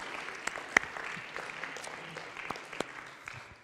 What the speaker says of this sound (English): we'll give a hand clap for Kent